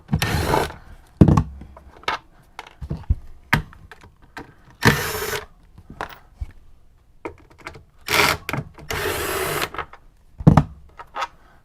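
A power drill backs bolts out inside an RV during a lithium battery conversion, with several short sharp whirring bursts separated by pauses, close and moderately loud amid clicks and handling taps.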